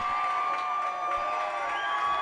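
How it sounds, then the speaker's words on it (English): Onsted home crowd at a high school football game against Erie Mason, a steady, loud wash of cheering voices filling the whole moment. "this Onsted crowd starting to get loud now"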